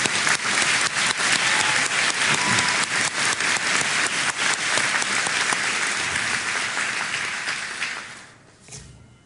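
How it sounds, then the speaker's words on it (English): Sustained applause from a large audience at a winter college commencement for 2009 graduates, dense clapping filling the hall for about eight seconds before tapering off. "please join me in a round of applause for our 2009 winter graduates"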